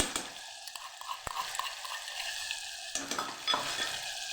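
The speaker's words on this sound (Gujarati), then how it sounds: "ટમેટાને આપણે સરસ સાતડી લઈશું" Tomatoes sizzle and fry in a pan with garlic chutney, with a spoon scraping and stirring now and then; soft and close, no voices.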